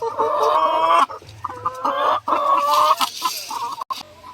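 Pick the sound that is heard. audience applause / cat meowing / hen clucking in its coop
hen clucking in its coop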